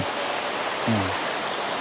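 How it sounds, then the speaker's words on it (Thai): Hot spring waterfall at Khlong Thom, Krabi, flowing as a steady, close broadband rush of water, with a brief low tone partway through. "มันคงเป็นน้ำพุร้อนน่ะแหละครับ ไหลมาจากทางต้นน้ำนะ"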